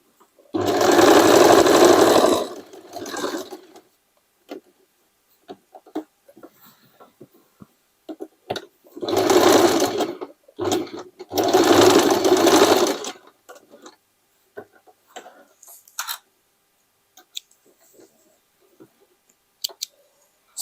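A sewing machine runs straight stitching on patchwork jeans in close, loud bursts of fast whirring of a few seconds each, separated by quiet gaps filled with small handling clicks and rustles.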